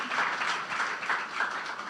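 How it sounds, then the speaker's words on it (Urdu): Church congregation gives loud applause, a sustained wash of many hands clapping at a steady, dense pace with no talking over it. "زوردار تالیاں بجا دیں یسوع کے جلال کے"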